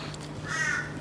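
One harsh crow caw rings out from some distance, brief and raspy above a constant low hum.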